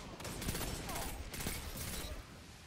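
Pulse rifle bursts fire in a Destiny Iron Banner multiplayer match, a dense continuous clatter of game gunfire with sharper cracks poking through.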